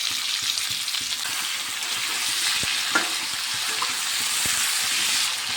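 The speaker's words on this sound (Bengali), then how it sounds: "আলু আর পেঁয়াজটা আমি ভালো করে ভেজে নিয়েছি" Potatoes and onions frying in a pan with ginger, garlic and dried chili paste, a loud, dense, continuous sizzle close by with a few faint knocks.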